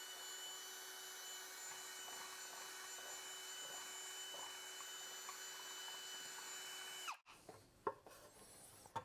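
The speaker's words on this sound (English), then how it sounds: "I'm gonna take the drill bit and I'm gonna round the corners on the other ones" A handheld drill with a bit spins steadily against the corners of a wooden squatty potty, a continuous whining buzz that cuts off abruptly, followed by a few scattered knocks and handling noises.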